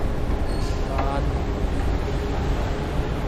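A metro train rumbles past nearby in a loud, steady roar with a few brief metallic squeals, faint murmuring voices underneath.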